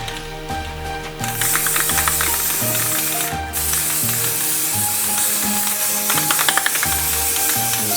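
An aerosol can sprays gold paint onto Christmas yard-bulb decorations in a loud, steady hiss, close up, with brief pauses and a rattling can, all over a looping music track.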